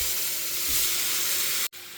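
Steak meat frying in hot oil in a pan, a loud, dense, steady sizzle close by that cuts out abruptly near the end, with no talking.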